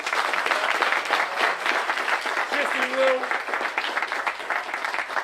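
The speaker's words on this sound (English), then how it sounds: "Give him a round of applause." An audience claps steadily for a track and field athlete at a team recognition event, dense sustained applause filling the room at a constant level, with a faint voice or two murmuring underneath.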